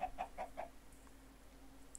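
Chickens in the Minecraft video game cluck in a quick run of four short, evenly spaced calls, then quiet game ambience with a brief higher chirp at the end; no talking.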